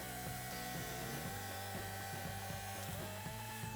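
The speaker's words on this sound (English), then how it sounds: "let's make a few test cuts and see how well it performs" A jigsaw mounted upside down in an inverted jigsaw table makes test cuts, a steady buzzing saw drone running continuously and fairly close with a rhythmic pulsing chatter.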